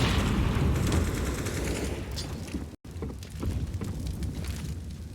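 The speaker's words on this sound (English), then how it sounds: "Nice nade, Rez" A grenade blast during a Counter-Strike match on the Vertigo map: a dense burst of explosive and gunfire noise, a sudden brief cutout, then more rumbling game effects continuing without talk.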